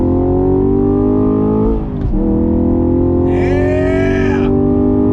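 A Chevrolet Camaro SS 1LE engine pulls in third gear with a loud, steady, deep multi-toned drone, briefly dipping as the throttle flicks before roaring on strongly up close.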